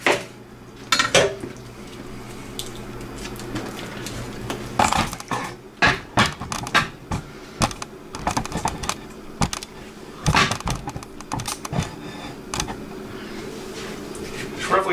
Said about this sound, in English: Just roughly chop it